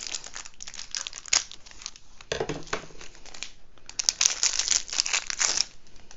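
Crinkly plastic packaging around a diamond painting pen being cut and pulled open, close, loud crackling and crumpling that rises and falls throughout.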